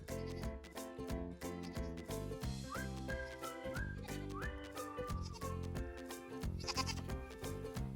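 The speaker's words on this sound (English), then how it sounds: "trying to get the goats to come out. Here they come. Hey, goaty girls." Goats bleat repeatedly on a snowy day as they are called out of their shelter, loud close wavering calls overlapping one another in quick succession, with a short whistle-like tone partway through.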